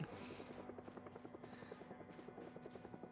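Rotor blades of a helicopter chop rhythmically in Project Zomboid, a fairly quiet, steady thumping pulse that holds throughout without any speech over it.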